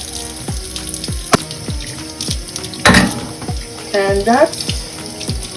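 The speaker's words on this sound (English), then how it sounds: "the conclusion of my washing and cleaning my potato" A sweet potato scrubbed under a running kitchen tap, water streaming steadily into a sink with splashes and knocks of handling, close and loud; a voice speaks briefly near the end.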